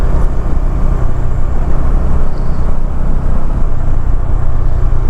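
Car driving along a mountain road in Arunachal Pradesh after passing several landslide zones, its engine and tyre rumble a steady, close, continuous drone with no talk.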